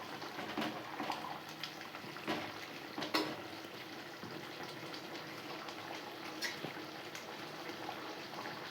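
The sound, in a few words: dried fish and lima bean curry boiling in pot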